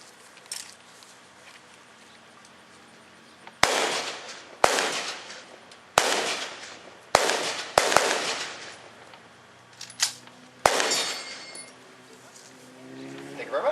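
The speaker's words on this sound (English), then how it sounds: "So this is the M1 Garand rifle" Sharp, loud rifle shots from an M1 Garand, the standard World War II infantry rifle, ring out about seven times at irregular intervals, each crack trailing into a short echo, with quiet pauses between.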